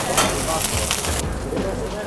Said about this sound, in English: We start with zucchini. We use olive oil for flavor, not just for cooking the zucchini inside.